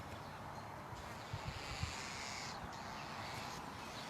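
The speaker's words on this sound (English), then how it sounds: "I hear some bird noises, that's just about it." Faint bird calls outdoors over a soft, steady background hiss of wind and distant ambience, a few scattered chirps and caws.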